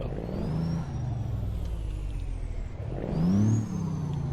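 A Kenworth K100 truck engine in American Truck Simulator revs up, drones steadily, then swells again in a second surge, with a continuous close mechanical whine over the low rumble.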